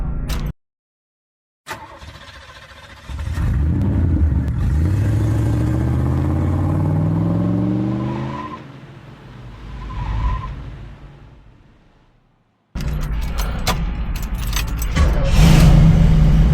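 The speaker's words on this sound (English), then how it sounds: "Taz is going to do a cold start on this 1969 442 Oldsmobile" 1969 Oldsmobile 442 engine cold-starting, a cranking starter giving way to a loud, rising rumble that settles to idle, then a sudden cut and renewed loud running close by.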